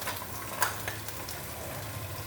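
Mustard seeds sizzle in hot oil as a tempering begins, giving a steady, moderately quiet frying hiss with a few sharp pops and crackles.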